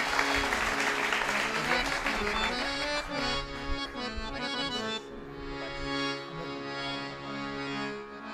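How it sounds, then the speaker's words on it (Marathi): Loud sustained applause from a kirtan audience with dense clapping over held harmonium notes, easing slightly partway through while the music continues underneath. "जोरदार टाळ्या होऊ देऊ."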